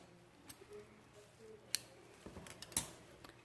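Electrical tape being trimmed while prepping a tumbler gives a few faint, close, crisp snips and clicks over a quiet room.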